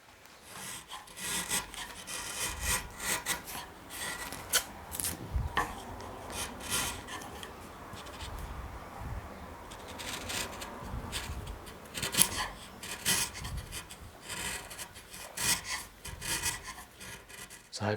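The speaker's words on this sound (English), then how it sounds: "which I've been flattening out with the shallow gouge" A shallow gouge pares across and along the grain of a wood relief carving, giving repeated close scraping, rasping strokes in irregular bursts, moderately loud and with no voice.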